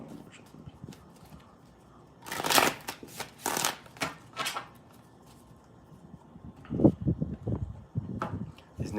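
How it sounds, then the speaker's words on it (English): A new, slippery deck of tarot cards riffled in a few quick bursts of crisp flutter, close up, outdoors in Sedona, with soft rustling and handling noises between them. "Oh, one more shuffle."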